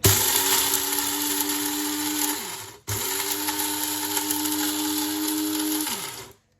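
Electric spice grinder whirring through whole garam masala spices, two loud continuous motor runs with a brief pause between, the pitch sliding down as each run winds off.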